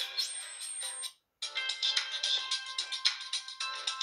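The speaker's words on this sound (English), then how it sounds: "a test then of the ringtones" A 2009 Samsung Blue Earth phone plays a bright melodic ringtone, a quick run of electronic notes that stops briefly and then resumes, heard up close with no talking.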